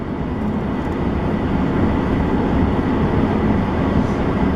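A steady, loud rumble of a train rolling by in rural Nebraska, continuous low drone with no breaks and no voices.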